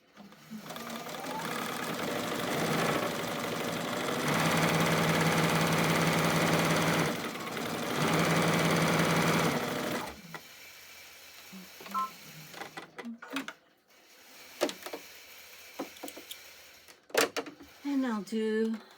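A sewing machine stitches fabric for a bowl coozie in a long steady run with a short pause, then falls quiet except for scattered clicks and light handling noises nearby.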